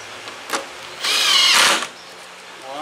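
Power drill driving screws into the front end of a 2020 Ford Transit during reassembly after a radiator replacement, with one close, loud whirring burst of under a second after a short click.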